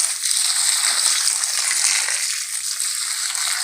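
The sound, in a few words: rice water poured onto organic compost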